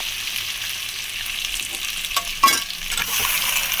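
Meat goes into a pan of half-fried papaya and potatoes, and the sizzle jumps sharply with a few clattering stirs. The frying then settles into a louder, steady hiss close by.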